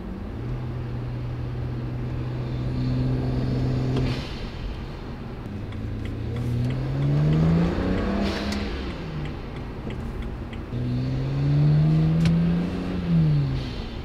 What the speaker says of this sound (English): those boost noises are just addictive